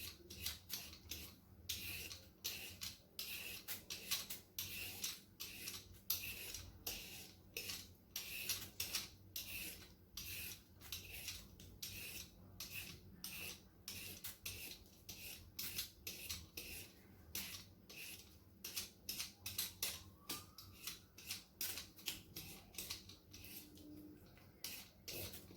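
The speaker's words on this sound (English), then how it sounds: "so I just go ahead with my potato peeler to peel it very quick" A potato peeler scrapes the skin off a papaya in quick, repeated strokes, giving a steady run of close, crisp rasping sounds with no talking.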